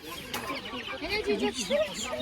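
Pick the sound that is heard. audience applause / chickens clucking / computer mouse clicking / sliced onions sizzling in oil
chickens clucking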